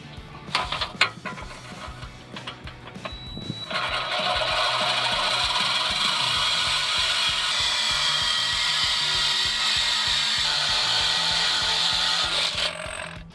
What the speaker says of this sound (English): now that we've cut through the exhaust